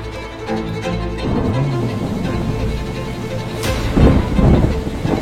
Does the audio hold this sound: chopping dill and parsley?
no